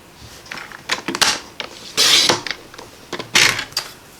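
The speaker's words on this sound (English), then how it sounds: "that's how I cut down my cardstock after I've cut a piece" Cardstock is sliced on a paper trimmer in several short, close scraping strokes, each blade pass a crisp rasp, with quieter clicks of the paper being repositioned between cuts; no talking.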